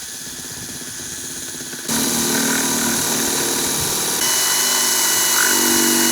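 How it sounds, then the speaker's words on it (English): A power drill bores a hole into a model battleship hull, a steady motor whine that jumps louder about two seconds in and rises again near four seconds, close and continuous, with no voices. "That hole you drilled was off center."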